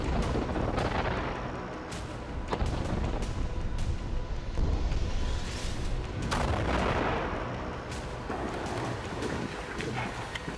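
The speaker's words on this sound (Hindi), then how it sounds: "टैंक खान यूनिस की गलियों में उतरकर गोले बरसा रहे हैं" Tanks firing shells through the streets of Khan Younis in Gaza, with dense, continuous rumbling blasts and repeated sharp cracks of gunfire running loud throughout, sounding like a sustained barrage.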